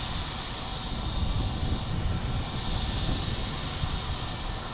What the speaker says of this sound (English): United Airlines heading to Chicago. 737-800.